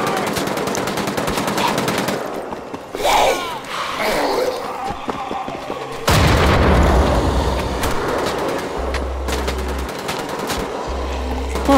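Rapid automatic gunfire from the World War II shooter Wolfenstein: The Old Blood, loud bursts and single heavy shots with explosive booms, continuous through the clip.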